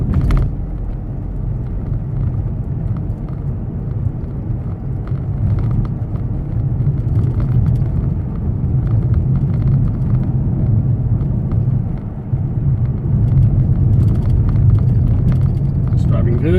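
Mercedes E250 CDI diesel saloon with a loss-of-power fault driving along a road, a steady low engine and road rumble continuing throughout from inside the car.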